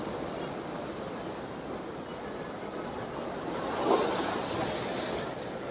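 High sea waves along the Alexandria Corniche, a continuous rushing roar of surf with a swelling crash near the end, heard from the shore with no talking.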